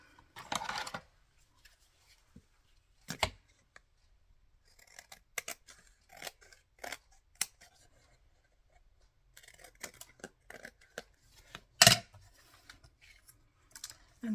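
Scissors snip through paper in short, crisp cuts while making cards, scattered irregularly with pauses and a few light handling noises between them.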